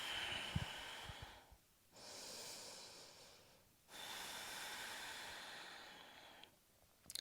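Steady audible breaths during a power vinyasa yoga class, two long drawn-out exhales with quieter gaps between them and a few soft snorts and huffs at the start, close and alone without talk.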